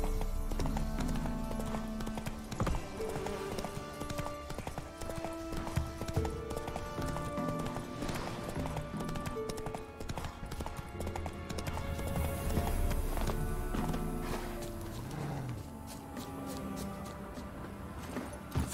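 A horse in the video game The Witcher 3 gallops with steady rhythmic clip-clop hoofbeats, loud and continuous under layered orchestral music.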